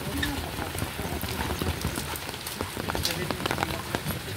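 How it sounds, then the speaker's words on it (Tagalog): Steady rain pours onto surfaces outdoors, a dense, continuous patter with scattered heavier drops throughout, fairly loud and close, with faint voices in the background. "Ayan, umuulan na."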